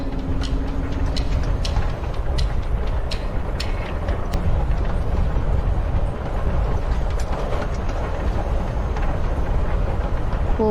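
A train rumbles along in the Life is Strange: Before the Storm video game, a steady loud rolling noise with faint rhythmic clicks of the rails and an onboard feel.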